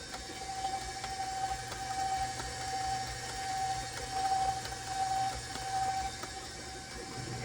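A stand mixer beats rocky road cookie dough, a steady mechanical whir with a faint repeating high whine running continuously at moderate level, with no talking.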